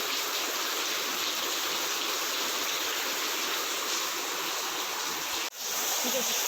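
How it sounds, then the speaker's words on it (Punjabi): A loud, unbroken hiss of heavy rain pours down close by, steady throughout with a brief dip before it resumes. "ਤੇਜ਼ ਹੋ ਗਿਆ ਮੀਂਹ"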